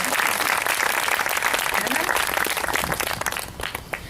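Audience applause fills a hall at a spiritual discourse, dense continuous clapping from a crowd that stays loud and then begins to thin out toward the end.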